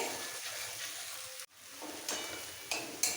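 Cumin powder, ginger and green chilli sautéing in oil for palong khichuri, a faint steady sizzle with a brief break and a few soft stirring scrapes, quiet and close.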